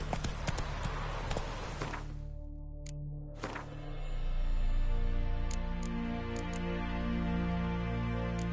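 Horse hooves in The Witcher video game, clopping in a quick scatter of close hoofbeats at first and then a few sparse single hits over a sustained musical drone.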